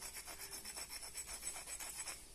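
Hammer stone rubbed along a flint edge to grind it, a faint dry rasping in repeated short strokes, quiet and close with no talk.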